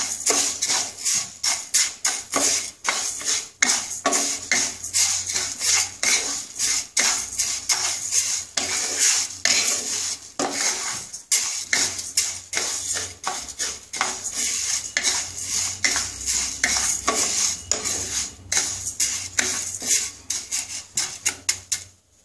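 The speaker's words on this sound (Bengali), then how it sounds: "ডালটা আমি শুকনো আগে ভেজে একটু লাল লাল করে ভেজে নেবো।" Moong dal is dry roasted in a pan while a metal spoon or spatula scrapes and stirs it in rapid, repeated clinks and scratches, close and steady for over twenty seconds without talking.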